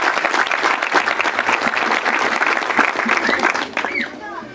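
A crowd applauds at a thanksgiving ceremony: loud, sustained clapping from many hands that tapers off toward the end, as a voice begins to speak over the fading applause.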